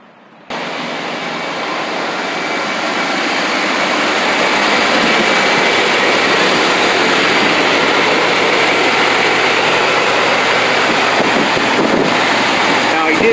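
An engine starts with an abrupt roar and then runs loudly and steadily, a dense, rushing drone that builds slightly and holds close to the microphone.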